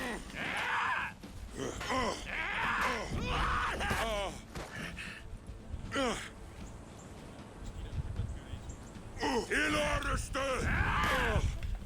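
A For Honor character yells and groans repeatedly in bursts, loud over game music and clashing combat sounds.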